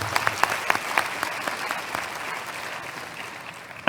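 A conference audience at the ISMB 2014 awards applauds absent award winners, a steady burst of many hands clapping at moderate distance that gradually softens.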